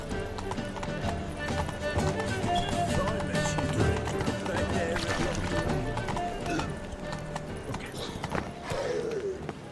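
Roach, Geralt's horse in The Witcher 3: Wild Hunt, galloping through Novigrad with rapid rhythmic hoofbeats and an occasional whinny, set against game ambience and background voices.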